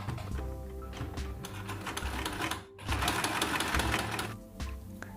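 A domestic sewing machine stitches fabric for a child's frock in close, rapid mechanical chatter. Its needle rhythm pauses briefly at mid-point, then resumes and runs steadily, with no talking.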